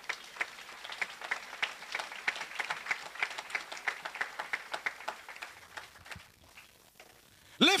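A church congregation claps together in a steady, fairly loud rhythmic beat for about six seconds, then the clapping fades into quiet before a sudden loud sound at the end.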